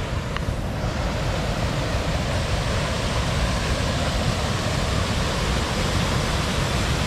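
Naturally carbonated spring water pours and rushes at a large spring feeding a stream in Soda Springs, Idaho, a loud, steady, broadband roar without pause or talk.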